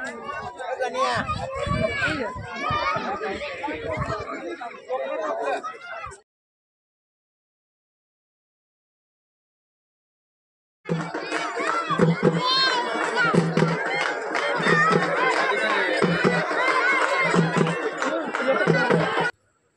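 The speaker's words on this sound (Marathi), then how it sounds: "आणि भरपूर अशी गर्दी झाली आहे" A large crowd chatters at a village gathering where people sit in rows for breakfast and tea during a centuries-old tradition; dense overlapping voices and babble fill two stretches separated by a silent gap.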